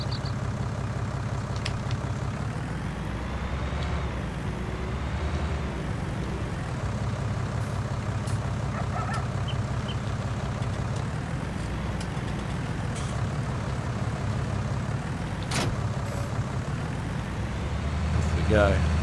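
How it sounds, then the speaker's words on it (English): A tractor engine in Farming Simulator 19 hums and drones steadily as the machine starts and drives off, a constant low mechanical rumble under someone talking throughout. "Start the engine."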